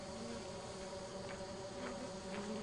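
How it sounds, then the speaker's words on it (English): Bees buzzing in the video game Lethal Company, a steady insect drone holding at low level throughout with a few faint brief flutters, no talk over it. "Oh my gosh, the bees are right there."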